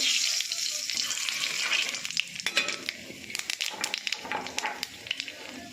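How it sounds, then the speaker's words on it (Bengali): Nigella seeds dropped into hot oil crackle and sizzle sharply up close, with a burst of popping that settles into uneven spitting and a few clinks of a utensil. "আপনারা একটু কালো জিরা দিয়ে দেবো"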